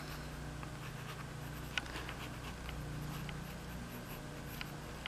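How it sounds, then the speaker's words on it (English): Pencil on paper drawing a dinosaur outline, a faint soft scratching with a few light taps and strokes over quiet room noise. "while I'm drawing."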